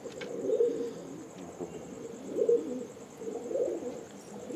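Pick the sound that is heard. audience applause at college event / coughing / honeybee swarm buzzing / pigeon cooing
pigeon cooing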